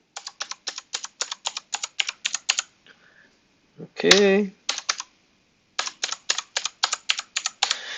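Password keys tapped on a computer keyboard in quick, clicky bursts of roughly a dozen strokes each, close and clear, with a short pause in the middle where a voice speaks briefly.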